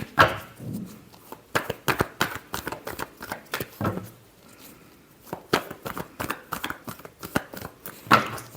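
Tarot cards are shuffled by hand in a run of quick, close riffling bursts with short pauses between them. A voice speaks briefly at the start.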